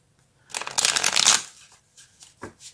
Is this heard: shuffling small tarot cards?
yes